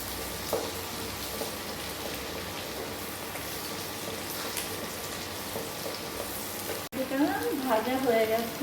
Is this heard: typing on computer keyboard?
no